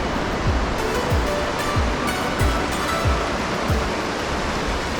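A river rushes through the Verzasca Valley in Switzerland, a loud, continuous roar of flowing water heard close by on a hike, with faint rhythmic thumps underneath and no speech.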